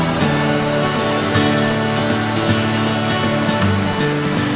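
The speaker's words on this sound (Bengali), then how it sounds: "অবশেষে পৌঁছে গেলাম একদম ঝর্ণার সামনে।" Dudhsagar waterfall in Goa, a tall cascade plunging down a hillside, roars as a steady, dense wash of falling water heard up close, continuous and loud throughout with no pauses.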